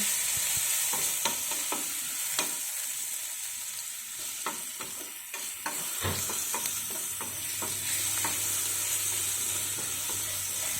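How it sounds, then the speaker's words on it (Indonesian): Garlic stir-fries in hot oil in a pan for spicy chicken, a steady close sizzle with crackles and the scrape and clack of a spatula, and a low hum starting midway. "Lower the heat and then keep stir frying until fragrant."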